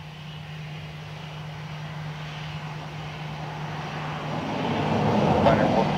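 Aircraft engine noise at Dublin Airport, a steady low drone that swells louder toward the end as a plane draws nearer, with a faint voice in the background.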